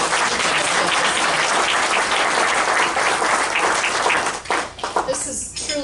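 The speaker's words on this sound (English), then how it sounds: "a round of applause to all of the members" A crowd at a luncheon claps in sustained, dense applause that carries on steadily, then thins out and fades near the end.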